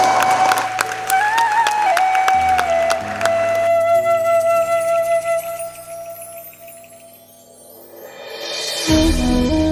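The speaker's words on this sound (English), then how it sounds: "Everyone, please give them a huge round of applause." Applause from an audience at a national hackathon award ceremony at Yenepoya University rises and fades under music, with a brief lull before clapping swells again near the end.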